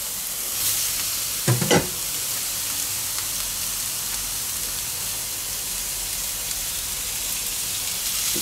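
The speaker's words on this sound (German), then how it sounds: "Die Zwiebelchen kommen jetzt rein." Small onions frying in oil in a pan for shashlik skewers, giving a dense, steady hiss of sizzling close by, with a couple of brief knocks early on and no speech.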